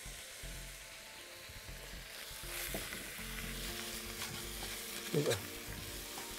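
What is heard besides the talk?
pigeons cooking in caramel in a pan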